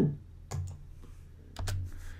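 A computer keyboard spacebar is pressed several times during podcast editing, giving crisp, close clicks separated by short pauses, with no talking.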